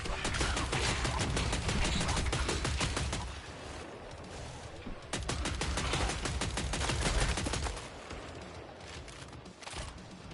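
Repeated blasts from a shotgun loaded with slugs in Killing Floor III, rapid, loud and sharp, in two long volleys separated by a short pause, with fainter shots toward the end.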